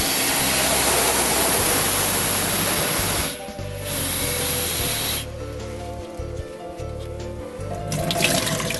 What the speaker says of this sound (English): You pour the water all over your hand up to your wrist.